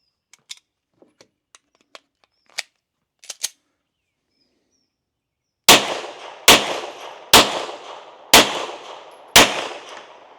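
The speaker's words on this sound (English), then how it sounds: "let's take a few shots with the same ammo, just for the sake of comparison" Five loud, sharp pistol gunshots from a Sig P365 fitted with an X Macro slide crack out at an even pace, each followed by a short echo tail, after a few faint clicks and taps.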